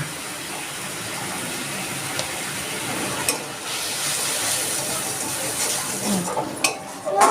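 Masala of spice paste with turmeric, sugar and salt frying in a pan for a jackfruit and crab curry, a steady close sizzle with stirring and a few utensil clinks against the pan, with no voices.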